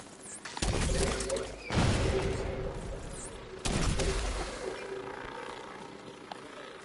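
Heavy gunfire in the shooter The Division 2, with a few loud, sharp bursts that roll into rumbling echoes over a steady low background, fairly close.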